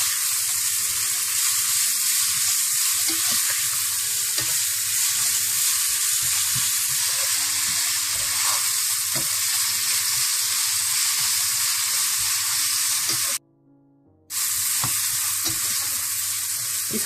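Vegetables for Hakka noodles stir-frying in a hot pan, a steady loud sizzle with scraping stir strokes and clinks throughout, briefly cut off near the end before resuming.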